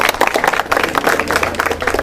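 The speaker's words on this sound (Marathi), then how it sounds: "दादा समोर या टाळ्या वाजवण्यात कंजूसी करू नका" An audience at a live quiz event in a study hall in Yavatmal bursts into dense, lively clapping that holds steady for about two seconds before cutting off abruptly.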